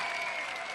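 A large studio crowd cheers and applauds without pause at the 1992 UK Gladiators Series 1 final, a dense, steady roar that stays loud and unbroken, with no gaps or single voices standing out.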